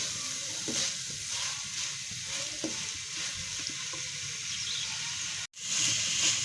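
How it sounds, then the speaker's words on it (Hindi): Chicken and vegetable samosa filling fries in a pan with a steady, close sizzling hiss and occasional stirring scrapes, then cuts out abruptly near the end before resuming. "ये 2 मिनट हमने भूनी है।"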